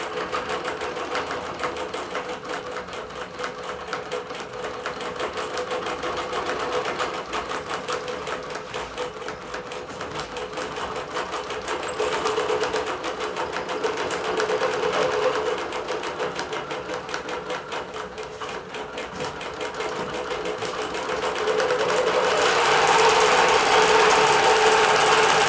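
A computerized quilting machine stitches a cotton quilt top in multicolor thread, a steady rapid mechanical chatter that runs throughout and grows slightly louder near the end, with no voices.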